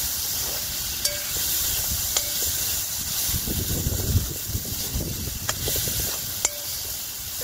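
Chopped tomatoes being mixed in a pan over a wood-fired stove, giving a soft steady sizzle and hiss with occasional light clicks of a spoon against the pan, fairly quiet and close.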